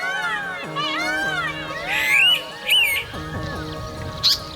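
Many birds call and squawk across the open Barda landscape, a busy mix of harmonic squawks and sharper chirps overlapping throughout, fairly close and lively with no talking.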